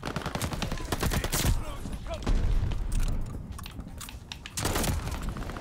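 Rapid bursts of automatic gunfire from a newly added weapon in the Call of Duty Vanguard video game, loud and close, with repeated volleys across the clip and game effects mixed in between.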